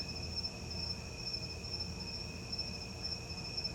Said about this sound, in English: Enjoy them crickets.